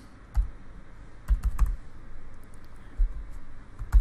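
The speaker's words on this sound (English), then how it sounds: "type in his email address" Keystrokes on a computer keyboard as an email address is entered, a few scattered clicks then a quick burst of taps, fairly close and soft, with no talking.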